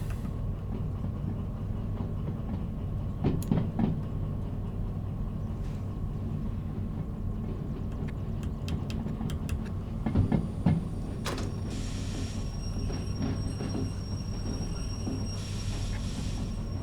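Steady low rumble of a locomotive rolling along rails in the train simulator game Derail Valley, with a droning engine hum and a few brief metallic clanks and squeals, nearby and continuous with no talk.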